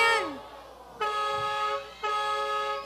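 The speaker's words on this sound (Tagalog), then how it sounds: "May busina yung aeroplano." An airplane horn blares three times in a row, each toot loud, sustained and tonal, the first sliding downward in pitch before the next two hold steady.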